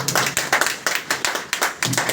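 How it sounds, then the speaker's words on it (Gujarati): A crowd claps loudly for a company in quick, overlapping bursts, close up and uneven, with the rhythm surging and dipping over about two seconds. "કંપની માટે જોરદાર તાળી થઈ જાય."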